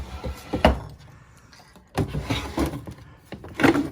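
A drawer of a wooden altar being opened and closed, with a sharp wooden knock, then a sliding scrape and further bumps, close by and in three separate bursts.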